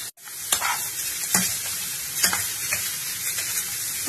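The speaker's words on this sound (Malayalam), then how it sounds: "ഇനി ഇതിലേക്ക് നമുക്ക് ആ സവാള ഇട്ട് കൊടുക്കാം ഒന്ന് വഴട്ടിയെടുക്കാം" Onions sauté in two tablespoons of ghee in a pan for onion kheer, a loud continuous sizzle with a spatula scraping and tapping at irregular intervals, close and with no talk.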